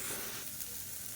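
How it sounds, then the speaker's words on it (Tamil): Onions sautéing in a frying pan for a savory puttu dish, a steady close sizzle with faint stirring throughout, no talking. "வெங்காயம் நல்லா வதங்கிடுச்சு."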